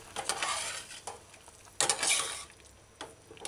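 Scallop curry stew being stirred in a pot, with soft scraping and sloshing strokes and a faint sizzle, close and quiet, coming in a few bursts with short pauses between.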